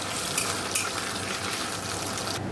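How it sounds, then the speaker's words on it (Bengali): Potatoes fry in oil in a wok with a dense, loud, unbroken sizzle, joined by a couple of quick metallic scrapes from stirring. "দেখো আলুটা আগে একটু ভেজে দিই"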